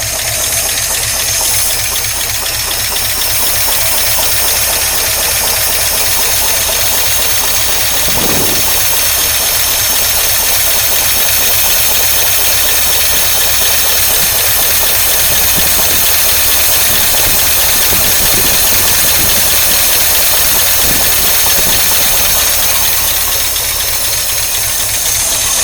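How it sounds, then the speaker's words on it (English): A 1953 Oldsmobile Rocket Super 88 barn-find engine idles steadily and loudly up close, a continuous rumbling drone with faint knocking and one brief thump, no talking. "Maybe we should put the idle up just a tad."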